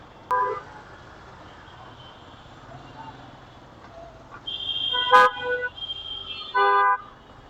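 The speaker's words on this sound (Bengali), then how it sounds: "অটো রিক্সা হরন দিতেছে?" Auto rickshaw horns honk in street traffic, a short toot early on, then sharper honks later, over a low background hum of the road.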